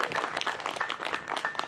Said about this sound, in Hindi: भाई बजाओ तो हरियाणा में ताली पीटी जाओ